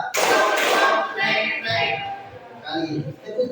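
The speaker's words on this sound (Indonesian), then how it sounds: "Tepuk dua." Classroom group clapping on a second count of a drill: a loud opening burst of many hands, then a few softer clustered claps, with voices murmuring underneath.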